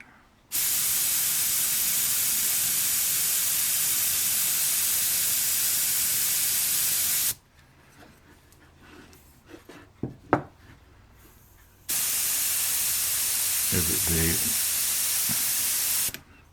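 Steady hissing leak from the nozzle cap and nut cap of a model ship's steam fitting, loud broadband spray-like hiss running about seven seconds, then a quieter stretch with small knocks before the hiss returns strongly.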